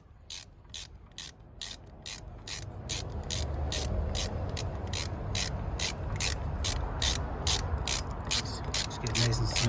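A ratchet tightens bolts on the EGR of a 2008–2015 Toyota Avensis 2.0 D4D, giving a steady run of close, crisp clicks over a low background hum.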